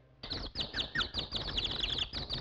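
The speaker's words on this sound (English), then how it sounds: "That woodpecker, he can sing." Woody Woodpecker, a cartoon woodpecker, sings in a rapid run of high, whistling chirps and trills that repeats without pause for a couple of seconds.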